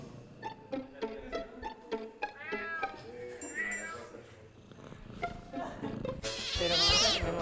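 A cat meows repeatedly in a video game at a game jam, short synthetic-sounding meows mixed with other game effects while people talk excitedly over it.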